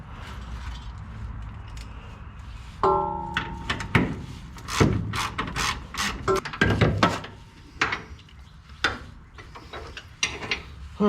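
A ratchet tightens motor mount bolts on a 1962 Ford Falcon with a Ford 200 inline six, giving bursts of close clicking and metallic clanks with pauses between, no talking.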